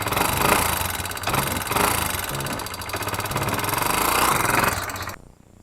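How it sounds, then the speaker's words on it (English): 1995 Kawasaki Bayou 220 ATV engine idling with a ticking valve from excessive clearance, a close steady mid-pitched putter with a rapid tick riding on it, cutting off abruptly near the end. "you hear it tick, and that tick definitely shouldn't be there."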